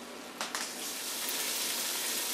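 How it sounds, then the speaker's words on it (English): Cod fillets sizzle in a hot pan, a constant hissing fry with a couple of soft bumps near the start, moderately loud and close, with no talking. "leave it on the same amount of heat and just let it sizzle and cook for another good 5 minutes."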